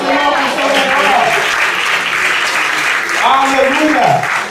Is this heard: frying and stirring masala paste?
no